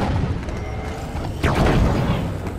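Grenade explosion in Halo 5: Guardians, a single heavy boom with a sharp crack that rumbles over dense ongoing battle noise, loud and close.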